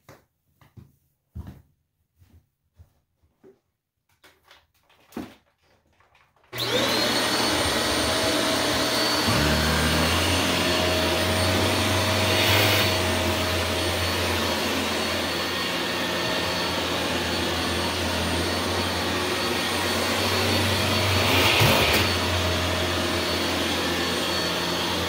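Shark Rotator Speed NV681 vacuum cleaner at maximum suction with its relief valve fully closed; after a few seconds of handling clicks it starts abruptly into a loud, steady roar that holds with a constant whine throughout.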